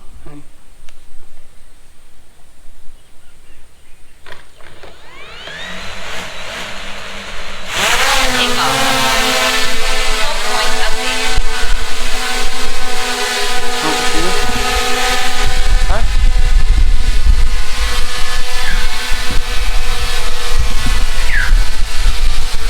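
A DJI Mini 5 Pro drone flies inside a room: after a quiet start its motors spin up with rising whining tones, then settle into a loud, steady buzzing drone close by.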